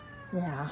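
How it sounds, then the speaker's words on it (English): A house cat meows once, short and rising, faint in the background of a quiet room, following a brief spoken word. "You can hear my cat in the background."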